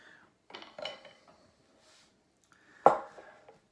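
A frying pan struck, giving a short, sharp metallic clang near the end, preceded by a few quieter clatters, with each sound dying away quickly in a quiet room.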